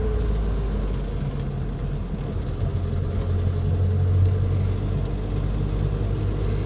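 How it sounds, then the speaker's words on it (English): A 1950s Standard Vanguard Phase 2 car drives along with a steady low engine drone and road rumble, its tone shifting slightly as the overdrive engages, heard from inside the cabin without talk. "Have a listen, I'll take it off and you can hear it go back into it again."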